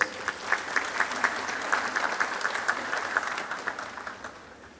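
An audience claps at a university congregation ceremony, producing a steady wash of applause with distinct individual claps standing out at a regular pace.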